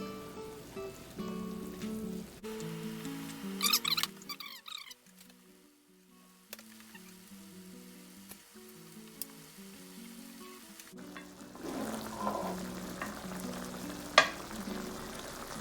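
Coconut milk (gata) with shrimp bubbles and sizzles steadily over high heat, a soft continuous crackle running beneath background music throughout.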